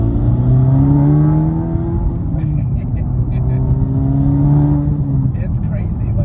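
A Honda Civic Type R FL5 accelerates hard with a steady, loud engine drone and rising tones heard from inside the cabin, continuous throughout with faint road noise.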